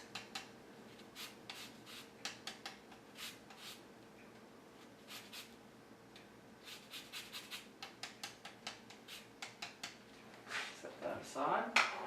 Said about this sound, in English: We're going to use a little bit of lemon zest.